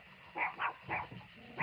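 Puppies bark at night, with three or four short yaps in a quick irregular run, somewhat distant and faint over low background hum.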